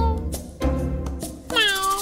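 A cartoon cat meows several times in a row, bright, clear and close, with the last meow rising and wavering longer than the short ones before it.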